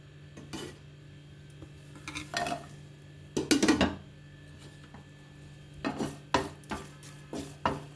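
Flaxseeds dry-roasting in a pan without oil: a spatula scrapes and stirs them in several short bursts, with quiet gaps between strokes over a low steady hum, and no talking.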